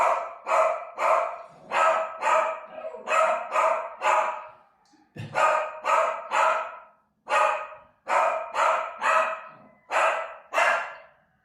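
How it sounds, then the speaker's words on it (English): Several dogs barking at two cats playing outside, a loud, close run of repeated barks in quick bursts with short pauses between, one deeper bark among them; no one talks. "There are 2 cats playing outside, and the dogs are letting them know that welcome."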